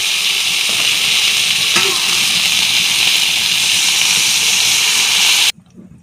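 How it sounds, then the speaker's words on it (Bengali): Water is poured into spice paste frying in a pan for an egg and potato curry, giving a loud, continuous hissing sizzle that cuts off abruptly just before the end. "এবার জল দিয়ে দেবো।"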